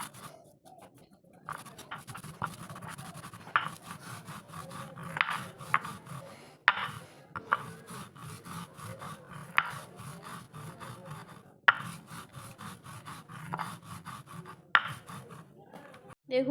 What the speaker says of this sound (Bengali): এই গোলমরিচটাকেও একই সঙ্গে সবগুলোকে আমি এবার শিলে বেটে নেব।